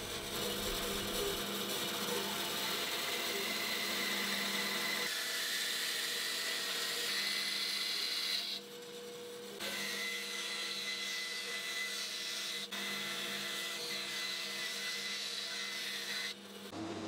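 Power tools machining square stock timber for the legs of a baby doll crib, a steady loud mechanical whine and hum running throughout with brief shifts in pitch as cuts change, no talking.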